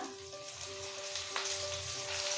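Onion and garlic paste with mustard and green chilli paste is stirred in a pan, giving a quiet, steady frying sizzle with faint stirring scrapes.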